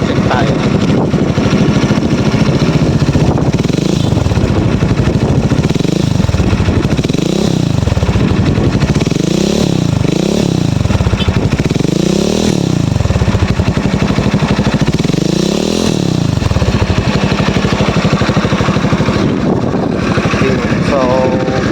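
An Easyride 150CL motorcycle engine, almost two years old, is revved repeatedly while idling, with loud rising and falling surges over a steady rumble and a closely miked, continuous engine roar.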